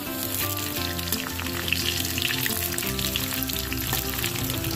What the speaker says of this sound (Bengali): লঙ্কাটাকেও হালকা ভেজে নিয়েছি